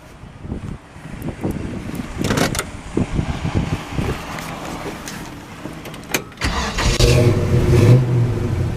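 A 1963 Chevrolet Nova two-door hardtop with an oversized radiator cranks and fires up, then its engine settles into a loud, steady run with a rise in revs toward the end.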